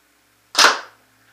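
A Proto Matrix Rail paintball marker fires a single sharp, loud shot through a chronograph, a close crack with a short decaying tail in otherwise quiet surroundings.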